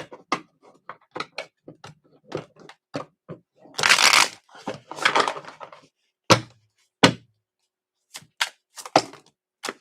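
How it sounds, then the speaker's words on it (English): Tarot cards are shuffled by hand, a close series of crisp, uneven riffles and snaps with brief pauses, one longer riffle burst in the middle, and no talk. "Shuffle one more time."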